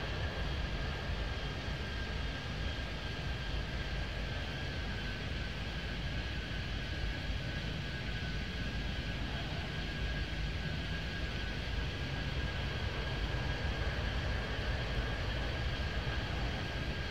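Jet aircraft engines drone steadily while planes push back and taxi at a Miami airport in the Airport Madness 3D game, a continuous, even roar with no distinct events and no talking.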